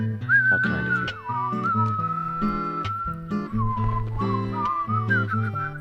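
A person whistles a wandering melody alone, steady and clear with sustained tones and some pitch slides, over a background of game music.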